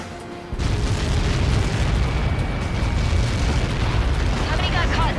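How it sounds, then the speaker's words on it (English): A massive impact blast from Helios projectiles in the aircraft combat video game Ace Combat 7 erupts after a brief quiet, then rumbles loudly and continuously for several seconds. "How many got caught in that explosion?"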